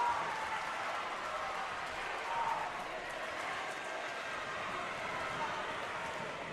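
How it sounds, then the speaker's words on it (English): A crowd at a tight high school basketball regional final between Hunter Huss and Jay M. Robinson keeps up a steady roar of cheering and clapping, with a voice talking over it. "Crowd making some noise in a 5-point game"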